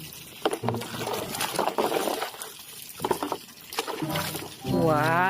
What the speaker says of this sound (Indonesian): Wah, kita kucek-kucek sampai bersih